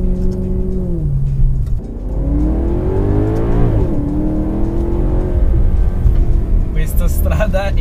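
Maserati GranTurismo Sport with its naturally aspirated V8 revving hard toward redline, pitch climbing through gear changes on a valley road, loud and close inside the car, cabin roar steady throughout.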